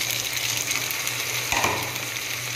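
Tomatoes sauté in a pan for chicken biryani, a steady close sizzle and crackle of frying with a brief scrape of stirring partway through.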